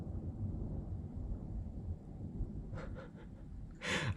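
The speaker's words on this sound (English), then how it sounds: "That was a massive, massive thunder sound there." Thunder from a storm breaks overhead during outdoor motorcycle work, a low broad rumble that swells and rolls on for several seconds, moderately distant and alone with no voices.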